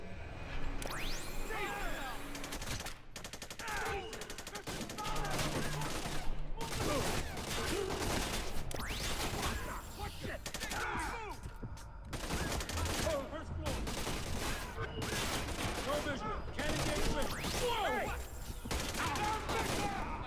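Sustained automatic gunfire in the stealth action game Splinter Cell: Conviction, set at Third Echelon HQ. Dense overlapping bursts run loud and close for about twenty seconds, with brief gaps and some game voices mixed in.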